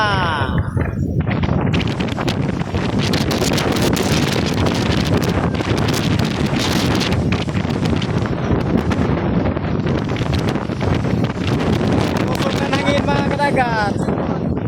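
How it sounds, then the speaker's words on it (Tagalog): Strong gusting wind roars across the microphone throughout at the seashore, buffeting continuously, with excited voices shouting over it. "Hangin-hangin na!"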